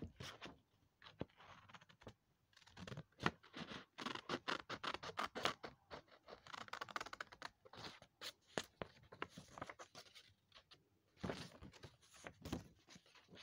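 Scissors snip through paper bookmarks, cutting squiggly lines down the side in quick irregular runs of close, crisp snips with brief pauses between them, quiet and without talking.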